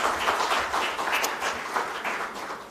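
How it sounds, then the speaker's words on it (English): Audience applause after a call to celebrate engineering school partners, a steady wash of many hands clapping for a few seconds, fairly close and even throughout. "So give them a round of applause for this."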